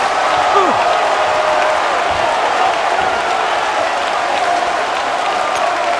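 A packed college basketball arena crowd at Missouri's home game against Kentucky roars and cheers loudly and continuously after a dunk, a dense, steady wall of noise with claps and shouts throughout.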